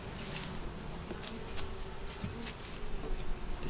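Steady insect buzzing hums close by, a dense drone of many honey bees at an open hive, with faint scattered ticks and taps, no voices.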